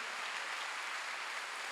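Steady, dense clapping from a congregation at a Wednesday evening church service, an even wash of many hands without pause or voices.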